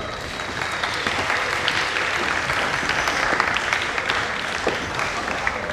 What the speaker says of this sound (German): Grüßt bitte mit einem großen Applaus Bischof Markus Tröge.